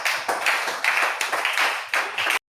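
A church congregation at a French-language Easter service claps in steady, fast unison, a dense and loud burst of hand claps lasting a couple of seconds before stopping abruptly.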